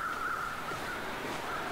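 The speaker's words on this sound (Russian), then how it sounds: "смотри, летают вороны" Crows in The Long Dark, circling above a frozen marsh, give a few faint, distant caws over a steady wind-like hiss.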